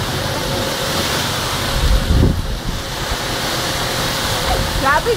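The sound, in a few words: strong wind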